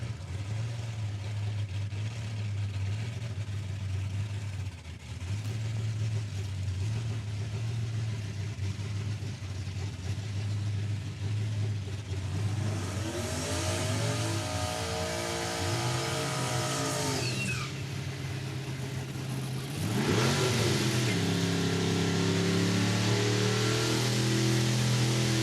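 Small-tire streetcar class drag racing cars idle and rumble in the lanes at Saskatchewan International Raceway, engines steady and loud before sharp revs and roaring launches that climb and pull away.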